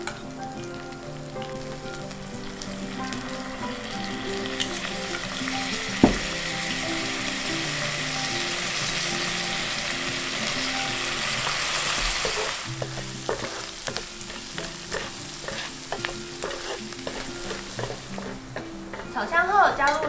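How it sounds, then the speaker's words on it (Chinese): Chili bean paste, chili powder, Sichuan pepper powder, five-spice, pepper and soy sauce stir-fried in oil for vegetarian mapo tofu, a steady close sizzle with spatula scraping and clacking against the pan that grows busier toward the end. "放入辣豆瓣酱、辣椒粉、花椒粉、五香粉、胡椒粉跟酱油一起炒香"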